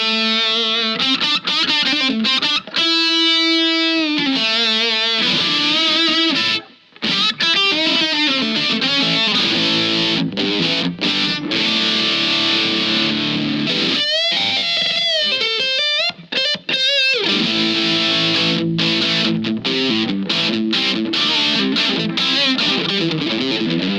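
Distorted electric guitar played through a Blackstar St. James 6L6 cabinet with stereo medium-sized room reverb, loud sustained chords and riffs with brief pauses, no voices.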